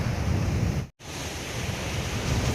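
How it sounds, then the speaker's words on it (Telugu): Sea waves surge against the rocks of Pondicherry's Rock Beach, a steady broadband roar of surf broken by one brief dropout before it resumes. "వెనకాల అలలు పోటెత్తుతున్నాయి."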